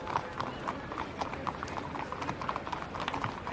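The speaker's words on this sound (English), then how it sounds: "the horses on their way now to the start for the next race" Racehorses' hooves clop in a steady walking rhythm over a busy, noisy racecourse background, several horses moving at a relaxed pace on the way to the start.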